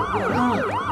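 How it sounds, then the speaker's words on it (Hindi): A wailing ambulance siren sweeps up and down in pitch, loud and close, with no voices over it. "अरे एम्बुलेंस आ गया भाइयों।"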